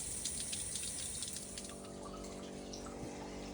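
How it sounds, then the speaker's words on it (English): Tap water runs steadily to cool a beer sample on a home brew day, a continuous close hiss of flowing water with faint drips and no talking. "just running it through a bit of water to bring the temp down"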